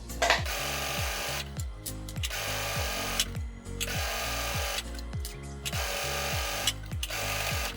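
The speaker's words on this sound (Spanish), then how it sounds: "Mientras vas cosiendo, te recomiendo que estires un poco la tela y utilices aguja ballpoint" A sewing machine runs a narrow zigzag stitch along a swimsuit strap, its needle thumping in a fast, steady mechanical rhythm in repeated bursts with brief pauses between runs.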